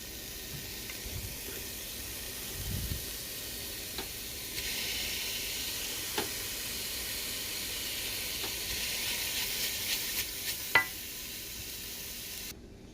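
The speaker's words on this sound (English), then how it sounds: "I'm going to be mixing it in this pot." Soft steady sizzle and occasional scraping as vegetables are stirred into Nigerian fried rice in a pot, a low frying hiss running throughout with a few faint clinks of the spoon.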